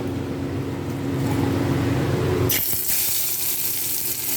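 Water from a kitchen tap gushes steadily over pumpkin greens in a sink, a loud continuous rush that abruptly changes character midway into a brighter, splashier spray.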